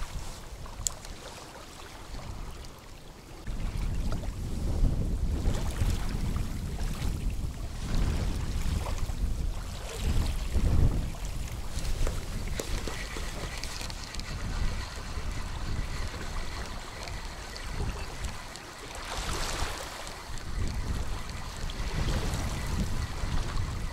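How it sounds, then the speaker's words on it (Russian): Strong wind blusters steadily over a spring reservoir during fishing, a loud continuous low rumble of gusts buffeting the microphone. "Потом по чуть-чуть начался ветер."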